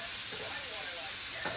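Pork cubes sizzling and frying in a pan while being stirred: a steady, close hiss with faint scraping of the stirring, and no voice over it.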